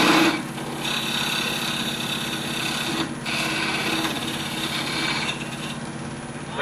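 A wood lathe turns a square-edge bowl while a tenon is cut for the chuck, giving a steady, loud whirring hum with a scraping, rasping tool edge that dips briefly and then carries on without talk.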